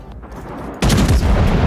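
Ship guns in World of Warships, aboard a Strasbourg, fire as a single loud, heavy boom that breaks from a quieter ambient bed and keeps rumbling to the end.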